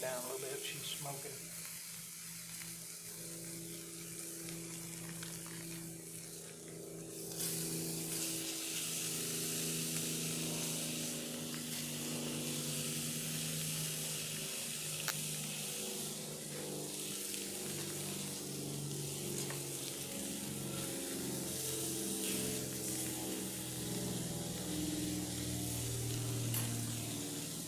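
Food sizzles steadily in a hot, smoking cast iron pan at an outdoor lakeside picnic, a continuous bright frying hiss that grows louder partway through, with a low background hum underneath.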